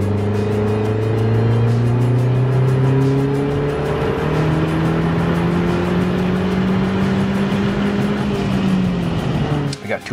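Mazdaspeed 3 fitted with a BNR S4 turbo pulls hard on a private road, loud engine tone climbing steadily through the gears with brief shift dips, sustained roar for about ten seconds before cutting off.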